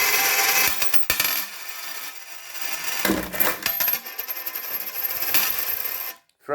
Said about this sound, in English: Throwing my coins around.